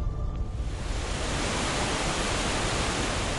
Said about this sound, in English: oh. Tidal waves.